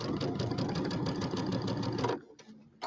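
Sewing machine with the embroidery unit removed, stitching quilt pieces in a fast, even mechanical chatter for about two seconds, then stopping with a few faint clicks and a brief restart.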